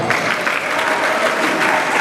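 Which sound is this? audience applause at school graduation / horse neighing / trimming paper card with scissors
audience applause at school graduation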